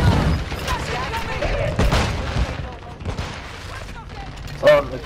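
A stun grenade detonates in the video game Warzone 2, with sharp bursts and crackling blasts amid gunfire-like noise, while players talk over the action.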